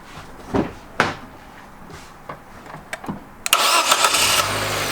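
A vehicle engine with a dead battery starts after a jump starter boost: a few muffled clunks and clicks, then the engine catches near the end and settles into a loud, steady run.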